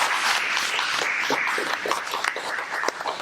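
An audience at a book concert applauds, a dense, continuous burst of many hands clapping at close range that holds steady throughout.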